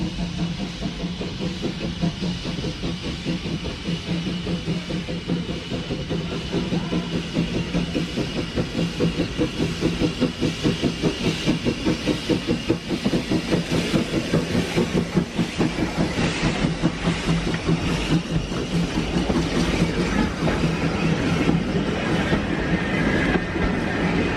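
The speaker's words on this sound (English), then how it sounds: "This is the Sir Berkeley by Manning Wardle. He built the locomotive in 1890." Manning Wardle steam locomotive Sir Berkeley, built 1890, running past with a steady rhythmic clickety-clack of wheels on rail joints and a hissing, chuffing engine, loud and close for the whole stretch without any talk.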